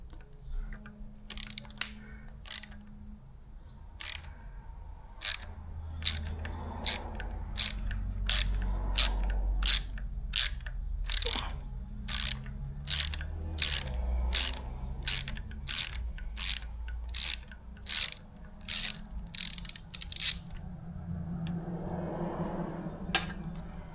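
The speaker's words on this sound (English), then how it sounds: "You'll then need an 8mm socket, a long socket, to remove this brass nipple." A ratchet on an 8mm long socket clicks in rapid bursts while removing a brass nipple from a KTM 690 Enduro R. The strokes repeat steadily, close and fairly quiet.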